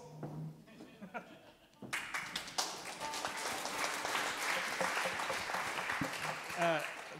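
Scattered clapping swells into sustained applause from a concert audience, a steady wash of many hands with occasional thumps.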